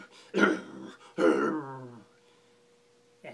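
A voice imitates a grumpy bear with two low, growly grumbles, the second drawn out longer, then quiet.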